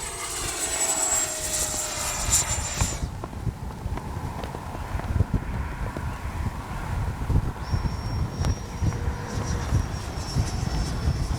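Freewing 80mm JAS-39 Gripen RC jet with an electric ducted fan taking off from a runway: a loud, steady high-pitched whine and roar with a constant wind-rushed hum, changing in pitch as the jet climbs away.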